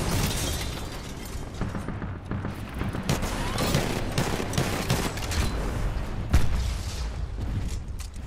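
Continuous gunfire and explosions during a Titanfall 2 Bounty Hunt match, rapid shots and heavy blasts packed densely at a steady high level for the whole stretch.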